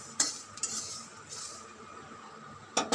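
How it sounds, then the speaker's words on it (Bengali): Fenugreek and other spices frying in a pan of oil for a sweet-sour mango pickle, with a soft steady sizzle broken by a few sharp clinks of a spoon stirring against the metal. "দেখো সব পুরপুর পুরপুর করে ভাজা হচ্ছে, আওয়াজ পাচ্ছ তোমরা?"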